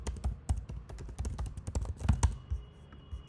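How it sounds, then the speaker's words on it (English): Fingers tap a password on a computer keyboard, a quick, fairly even run of close, soft keystrokes over a few seconds that tapers off at the end, with no talking. "So let me type in the password."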